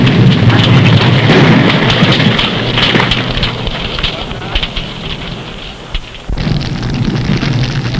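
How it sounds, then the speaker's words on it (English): A loud, sustained roar of fire and explosive blast noise, a conventional explosive detonating in a fire, fills the scene, crackling and rumbling, dipping briefly before surging again. "Sometimes the explosive detonates because of close confinement and intense heat"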